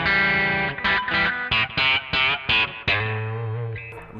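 Twangy bridge-pickup tone from a Fender Custom Shop Double Esquire electric guitar with a reverse-angled bridge pickup: a few chopped, staccato chord stabs with a chorus-like effect, then a sustained ringing chord, loud and close with no talking.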